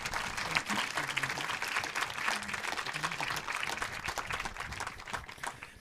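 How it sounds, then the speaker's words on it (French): A large audience at a lecture in a French political summer school applauds steadily, a dense continuous wash of many hands clapping with faint crowd murmur beneath, sustained throughout at moderate distance. "que je vous demande d'applaudir"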